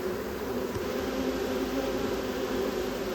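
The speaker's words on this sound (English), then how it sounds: "as you can probably hear and see, there's a lot of bees swarming around me right now" A swarm of agitated honey bees buzzes around a large hive, making a dense, steady drone that fills the whole stretch with no pause and no talk.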